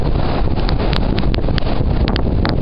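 Strong, steady wind roars through an East Coast blizzard, with constant gusting noise buffeting close by and faint higher rattles or ticks scattered through it, no talk.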